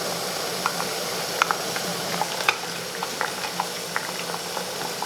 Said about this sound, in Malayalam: ഇപ്പം നമ്മുടെ വെള്ളം ശരിക്കും തിളച്ചു.